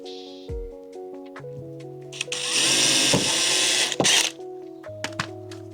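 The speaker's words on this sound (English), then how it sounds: "It's important you also pre-drill for these." A power drill pre-drilling a board for slatted composite cladding whirs loudly in one sustained burst of a couple of seconds, with music playing underneath and a brief clunk as it stops.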